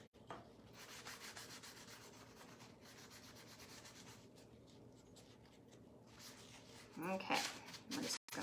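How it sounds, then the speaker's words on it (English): A cloth wipes excess stain off a wooden rolling pin handle, making a steady close rubbing swish that runs for several seconds and turns into brisker scuffs toward the end. "Okay, we're just gonna wipe off the excess."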